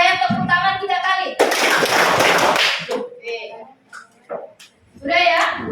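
Students in an Indonesian classroom clap their hands in unison, a quick burst of loud clapping that follows children's voices and gives way to scattered talk.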